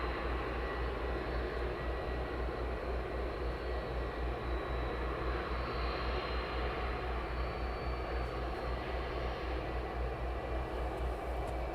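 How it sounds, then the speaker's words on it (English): A jet aircraft taxis at East Midlands Airport during a summer night, its engines a steady, distant roar and whine that holds constant, with a low rumble underneath and no voices. "This aircraft is taxiing right down to the very end"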